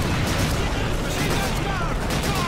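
Dense, continuous gunfire from a machine gun in Call of Duty, a loud sustained roar of rapid shots with rumbling low end and no pauses.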